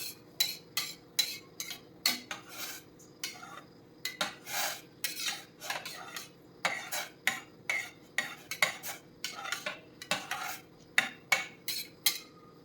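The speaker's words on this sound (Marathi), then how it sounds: "त्याला आता आपण छान हलवून घेऊ, म्हणजे मीठ सर्व भाताला लागेल." A utensil stirs soaked rice with salt in a pot, a series of short, crisp scraping and clinking strokes in an irregular rhythm, close and fairly quiet against a still background.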